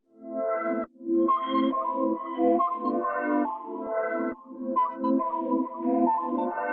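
A bright piano-like sample plays a chordal pattern, starting muffled and gradually opening up as higher tones sweep back in, steady and upfront.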